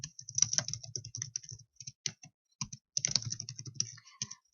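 Computer keyboard typing an SQL ALTER TABLE command; irregular bursts of quick, close key clicks with short pauses between words, fairly quiet and with no voice.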